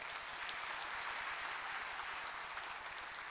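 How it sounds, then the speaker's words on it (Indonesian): Faint, steady applause fills the hall at a university graduation ceremony, a crowd of many hands clapping continuously at a distance. "Tepuk tangan buat kita semua."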